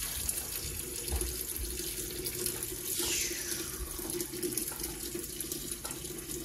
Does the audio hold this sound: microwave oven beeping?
no